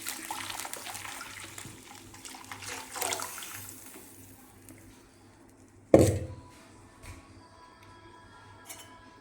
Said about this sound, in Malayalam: ഇനി ഇതിലേക്ക് തയ്യാറാക്കി വെച്ച തൈര് ഒഴിച്ചു കൊടുക്കാം